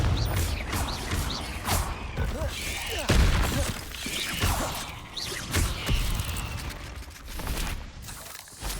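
Casting the Confringo spell in the video game Hogwarts Legacy produces whooshing bursts and crashing, fiery impacts amid busy combat noise, with a shouted incantation over the fighting.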